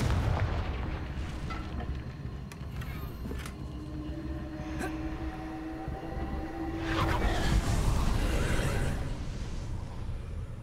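Confringo blasting spell going off in the video game Hogwarts Legacy, rumbling explosive booms over a dense game soundscape, swelling loudest around the middle-to-late stretch.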